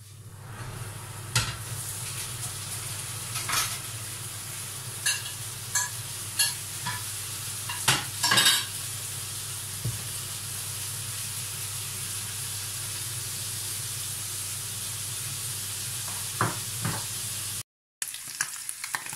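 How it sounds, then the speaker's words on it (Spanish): Blood with a pinch of salt frying in a pan, a steady soft sizzle broken by repeated sharp scrapes and knocks of stirring, close and alone. "Me echo la sangre y un poquito de sal. Y lo voy a menear de vez en cuando"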